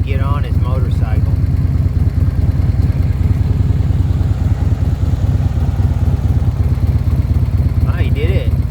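Motorcycle engine at a campsite, a loud steady idle thrumming close by throughout, with brief voices at the start and end.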